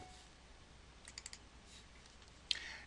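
Typing on a computer keyboard to enter a name in a patient list program; a few faint, soft key clicks in a quiet room, with one sharper click near the end, no talking.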